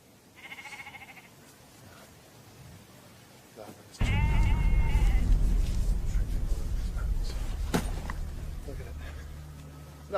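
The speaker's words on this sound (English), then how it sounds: "Nothing but bloody sheep." Sheep bleat in a field, first a faint call, then a loud, close flock of overlapping bleats that carries on steadily to the end.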